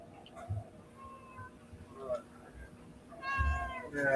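A pet cat meows a few times indoors, rising sharply near the end, over low background speech and room noise.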